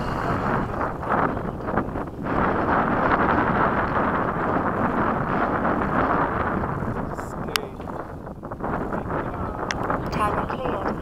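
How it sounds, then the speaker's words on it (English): Strong wind buffets the microphone at an RC jet airfield, a continuous rough roar that runs throughout with slight gusting, while someone talks under it. "Wind's picking up"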